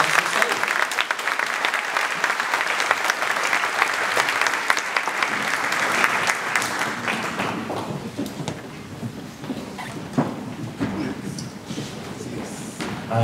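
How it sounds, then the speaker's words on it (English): Applause from an audience at a primary school Year 6 graduation ceremony, a loud sustained patter of many hands that thins and softens after several seconds, with a few scattered claps and faint voices lingering toward the end. "Have a final round of applause."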